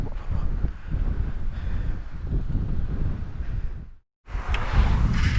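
Wind blowing at a beach at night near Konark and Puri in Odisha: steady low rumbling gusts buffeting the microphone, loud and close, with a brief silent dropout before the roar returns.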